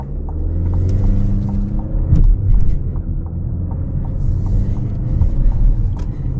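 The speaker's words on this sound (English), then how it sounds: "Now I'm just gonna take it on a highway and give a quick pull and see how it handles there." A 2025 GMC Terrain Elevation accelerates along a highway, its engine note climbing steadily under a constant low road rumble, with a brief gear change partway through; heard from inside the cabin, steady and fairly loud, no talking.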